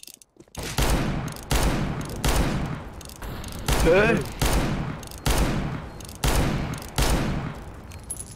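Gunfire in the game Counter-Strike: Global Offensive, a series of sharp, loud shots in a regular rhythm of roughly one per second, up close, with a brief spoken word and a voice near the middle.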